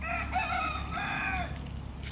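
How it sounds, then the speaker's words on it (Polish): A rooster near a local house crows one long, loud cock-a-doodle-doo close by, which fades out at the end over a low steady background hum. "Stąd dobiegają właśnie odgłosy koguta codziennie"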